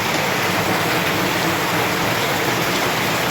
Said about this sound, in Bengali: তাও আমার মালপত্র ভিজে যাচ্ছে এত বৃষ্টির চাপ